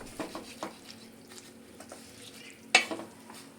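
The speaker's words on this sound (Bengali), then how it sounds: "এইভাবে খুন্তি দিয়ে নেড়ে চেড়ে শাকটা ভালো করে জলের মধ্যে ডুবিয়ে দিলে" Drumstick leaves being stirred and pushed down into water with a spatula, giving soft wet swishes and a few clinks against the pot, fairly quiet with one sharper scrape near the end.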